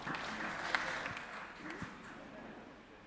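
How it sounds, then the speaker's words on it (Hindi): An audience claps softly and unevenly at a Shree Krishna Janmashtami celebration, a faint, scattered patter with voices in the background. "आप लोग इतनी धीरे से तालियां बजाते हैं"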